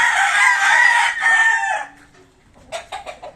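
A White Kelso rooster gives one loud, close crow lasting nearly two seconds, followed by a few short, softer clucks and calls.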